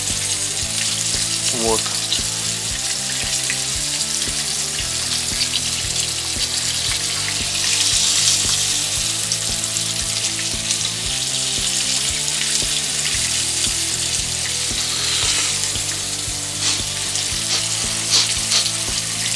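Crucian carp frying in a pan give a steady, close hiss and crackle of sizzling oil that runs the whole time, with a few light clinks. A voice speaks a single brief word.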